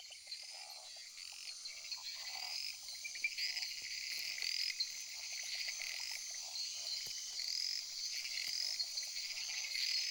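A chorus of jungle frogs calls from all around, high chirps and trills repeating over a soft insect hum, fairly faint and steady throughout.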